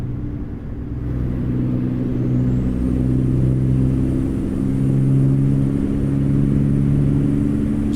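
A Western Star Coronado SD truck in American Truck Simulator, its engine droning low and steady as it accelerates through the gears. The rumble is loud and continuous, with a faint rising whine and subtle shifts in pitch.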